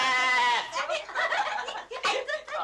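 A sheep bleats loudly and close by, a long wavering call followed by shorter broken bleats and some excited voices in an indoor scene from an old Turkish film.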